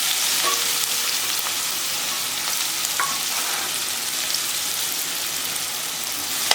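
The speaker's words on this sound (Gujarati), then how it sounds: "ઓનિયનને આપણે એકદમ સરસ મજાની સાંતળવા દેવાની છે" Chopped onions sauté in hot oil with cumin for a raw banana curry, giving a steady, dense sizzle with a few faint crackles and pops throughout and no voices.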